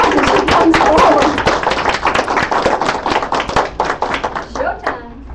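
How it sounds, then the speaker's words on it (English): Applause from a crowd of people, dense at first and then thinning out into scattered claps that fade away. "Let's give her a round of applause as she comes forward."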